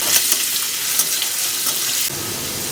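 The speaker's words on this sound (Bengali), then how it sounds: "কাজু কিশমিশটা দিয়ে দেবো কি ফাটলো বলতো আমি ওখানে ঘি দিয়েছি" Cashews and raisins fry in ghee in a pan with a loud, close, continuous sizzle and crackle, dropping slightly in level near the end, with no speech.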